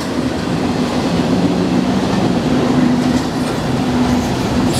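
A long Norfolk Southern freight train of empty spine cars rumbles past continuously, wheels clattering and rattling over the rails with a steady droning roar and occasional faint squeals.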